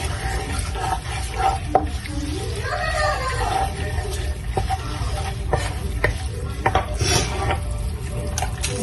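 Garlic-ginger paste sizzles and fries in a pan while being stirred for baghare baingan, a steady frying hiss with scraping spoon strokes and occasional utensil clinks throughout.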